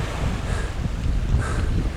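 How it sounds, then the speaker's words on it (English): Ocean waves and gusting wind buffeting a kayak in the Bay of Fundy, a loud, steady rush of wind over the microphone with sloshing surf underneath. "Fighting those waves."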